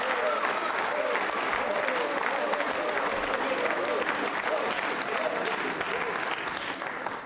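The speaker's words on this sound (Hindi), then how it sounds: "तो पहले तो तालियां बजाए इस बात के लिए।" Audience at a quiz show event for a social group clapping together, a dense, continuous burst of applause at steady loudness throughout, with no talk over it.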